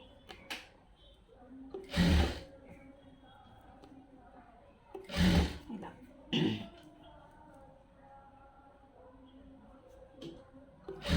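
A tailoring sewing machine sews a round shape in short, stop-start bursts as the fabric is turned. There are three or four brief whirring runs, close and fairly loud, separated by quiet pauses.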